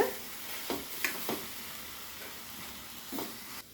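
Ginger garlic paste with turmeric and salt being stirred in a pan over a low flame, heard as a faint, steady sizzle close by with several soft scrapes and taps of a spoon, and no talking.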